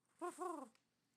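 A voice imitates a pigeon or dove, giving a short two-part throaty coo that is soft and close, followed by a faint click.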